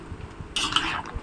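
Pancit bihon noodles and cabbage being stirred in a pan, with a brief scraping clatter of a utensil against the metal in the middle of an otherwise quiet stretch.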